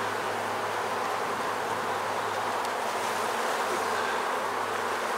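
Honey bees swarming around an open beehive during an inspection, a dense, steady, close buzzing that never lets up.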